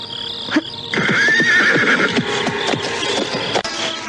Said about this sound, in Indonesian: Ringkikanmu dapat mengejutkan penduduk sekitar tempat ini.